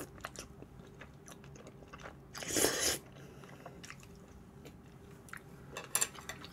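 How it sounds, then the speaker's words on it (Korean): A single crunchy bite into thick udon in mentaiko (pollock roe) cream cheese sauce, a brief close burst near the middle, followed by faint chewing and small cutlery clinks. "한입 하고."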